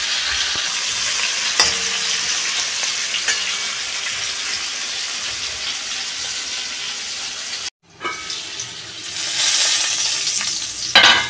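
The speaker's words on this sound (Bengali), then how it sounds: "আলুটা আমি ঢাকা দিয়ে ভেজে নিচ্ছি।" Potatoes frying in oil in a covered pan for chicken pulao: a steady, bright sizzle with occasional clinks, cut off briefly as the lid lifts, then a louder crackling burst as the potatoes are turned.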